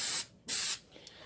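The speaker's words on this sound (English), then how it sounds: "I'm gonna spray these muffin tins with. Coconut cooking spray from Dollar Tree." Coconut cooking spray hisses onto muffin tins in two short, close bursts, each lasting about a quarter second, with a quiet pause between and no talking.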